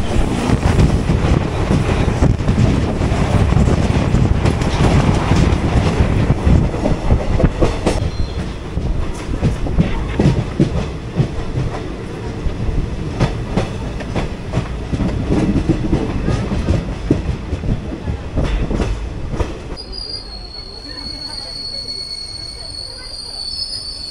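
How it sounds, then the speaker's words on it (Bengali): Uttar Banga Express 13147, on its Kolkata to New Jalpaiguri run, rolls on near Bidhannagar with a loud, continuous rumble, clattering wheel beats and high squeals from the wheels, easing toward the end as a thin metallic whine lingers. "ট্রেন পুরো রানিং হয়ে গেছে, বিধাননগরে ঢুকছি"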